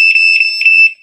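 A PiSector indoor wireless siren gives a loud, piercing electronic beeping after its test button is pressed, four rapid pulsing bursts on a steady high tone that then cut off.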